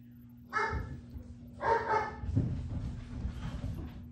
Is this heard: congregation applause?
no